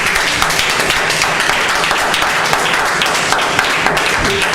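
Audience applause at a city board of mayor and aldermen meeting, a steady burst of many hands clapping filling the room with an even, sustained roar.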